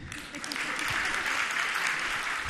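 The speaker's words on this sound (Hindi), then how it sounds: "बजाओ ताली।" A seated audience at a spiritual discourse by a Jain monk breaks into sustained applause, a dense, steady wash of clapping heard throughout at moderate loudness.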